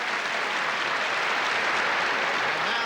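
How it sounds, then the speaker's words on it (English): Steady, sustained crowd applause fills a 1982 USA–China gymnastics dual meet arena after a floor exercise routine, a dense even clapping that holds throughout with no pauses. "A lovely ovation here from this crowd."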